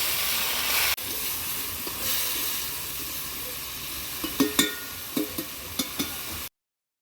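Leafy greens cook in a pan with a continuous hissing sizzle and steam. Several light scrapes and taps of a utensil follow near the end, heard close and alone before the sound cuts off abruptly.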